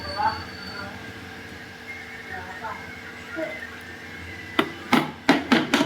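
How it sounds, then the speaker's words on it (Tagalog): A hammer taps a fan part lightly into place while a Hayward Super II 2.0 HP pool pump motor is being repaired, giving several sharp knocks near the end after a stretch of quiet workshop noise. "Pupukpukin ng konti para bumaon."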